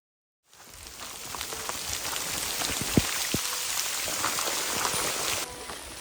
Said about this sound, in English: The rain finally caught up with us